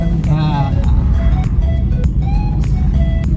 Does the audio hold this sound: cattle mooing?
no